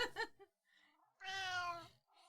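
A pet cat called Battle Cat meows close by: a short chirpy call, then one longer drawn-out meow, separated by quiet pauses.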